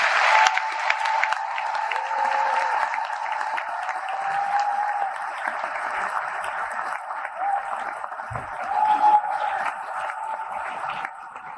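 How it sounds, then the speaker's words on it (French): Sustained applause from a crowd at an awards event, steady clapping throughout with a few faint voices and cheers mixed in. "Sous vos applaudissements, s'il vous plaît, Monsieur Philippe Tagnon."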